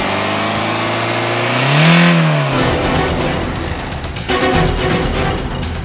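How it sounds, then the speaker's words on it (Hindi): A Toyota Corolla Altis diesel engine revs once, its pitch swelling and falling, then settles into a rough, steady running note up close, with no talking. "हम गाड़ी के इंजन क्वालिटी पर अब बात करेंगे कि क्या कुछ खास है टोयोटा कोरोला ऑल्टिस की इंजन क्वालिटी में।"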